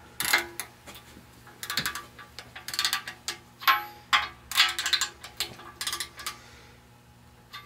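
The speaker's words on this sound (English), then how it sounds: "So now let's get these main cap bolts torqued." A torque wrench tightens the engine main cap bolts on a Ford 4000 tractor's 172 engine, giving a steady run of light ratcheting clicks in rhythmic bursts, close by and fairly quiet.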